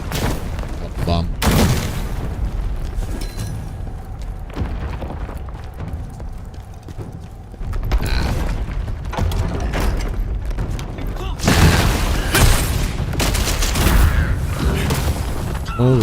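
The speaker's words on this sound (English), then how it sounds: "Oh, bomb." Bomb blasts in the action game Khazan, loud booming bursts and crackling debris rolling over sustained battle noise for several seconds, with a voice talking over the din.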